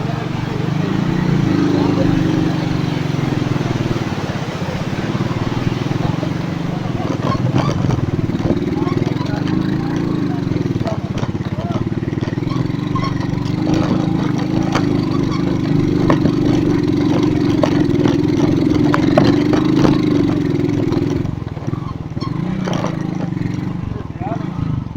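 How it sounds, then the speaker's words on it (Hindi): A motorcycle rides over a wooden bridge across a stream in the Neelum Valley near Jagran, its engine droning steadily and close for the whole stretch, with faint rattles from the planks. "और इधर एक लकड़ी का पुल है, हम बाइक को इंशाल्लाह इसके ऊपर से गुजारेंगे"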